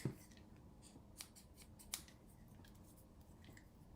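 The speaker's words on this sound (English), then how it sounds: "They're officially called detail scissors." Detail scissors handled at a crafting desk while making a gift box, giving a few faint, sparse clicks and snips spread over a quiet background, with no talk.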